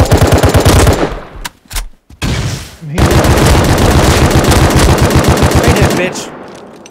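Rapid automatic gunfire from a video game shooter, loud bursts of machine-gun fire with a brief pause before firing resumes in long sustained volleys, while a player talks briefly over it.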